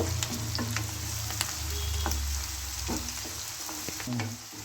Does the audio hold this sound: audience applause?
no